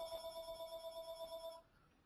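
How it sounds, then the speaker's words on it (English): A telephone rings during a webinar, giving a steady electronic warbling tone that pulses for about a second and a half and then stops. It sounds moderately close and is heard on its own without voices. "I thought I turned off the phone."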